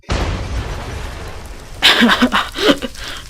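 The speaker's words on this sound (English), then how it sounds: "This one is the Incendiary Grenade. This one's just absolutely crazy. I'm gonna have to fly to show you it. It shoots little fireworks." An incendiary grenade in the Minecraft-based game Voltz goes off with a sharp explosive burst, then sprays little fireworks that crackle and pop in a quick, uneven cluster of bright bursts.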